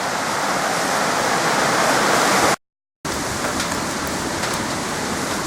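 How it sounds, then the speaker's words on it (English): Heavy rain pours down at a camping ground during a mountain hike, a dense, loud, unbroken hiss of downpour that stops briefly for a moment of silence and then resumes. "The heavens have opened up. It's pouring with rain."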